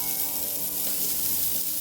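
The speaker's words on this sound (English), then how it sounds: "Fry the curry leaves and capsicum until they soften slightly and release their aroma" Curry leaves and cubed capsicum frying in a pan for mutton pepper, a dense, steady, close sizzle with a soft stirring undertone and no talking.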